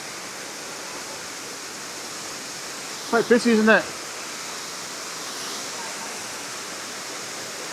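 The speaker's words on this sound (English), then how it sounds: "so here's the waterfall" A steady, broad rush of falling water from Dyserth Waterfall fills the scene, with a short burst of speech partway through.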